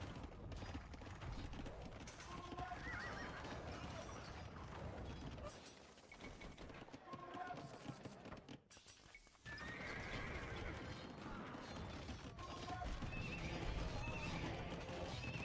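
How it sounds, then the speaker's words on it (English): Horses in a strategy video game whinny repeatedly over a dense, constant layer of clip-clopping hooves and mechanical clatter as cavalry archers move, loud and busy with a brief dip midway. "Go back with the cavalry archers,"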